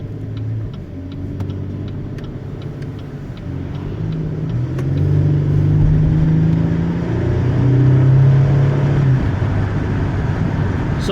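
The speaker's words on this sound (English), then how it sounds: "when you really step on the throttle, you can definitely hear the engine for sure out of this V6 engine" A 2016 Chevy Colorado pickup's V6 engine revs and accelerates from inside the cab, a deep rumble climbing in pitch, loud and steady with a faint ticking.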